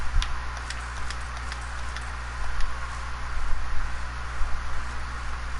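Horses in the video game Dragon Age: Inquisition, heard as light scattered clip-clop ticks over a steady low background hum and noise.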